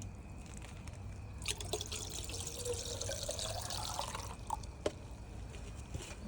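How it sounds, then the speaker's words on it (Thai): Lime water is scooped and mixed into water for spraying grapevines, producing a soft, continuous watery swirl and trickle with a few small drips and splashes, fairly faint and close. "คือตักแล้วก็ผสมไปเลย"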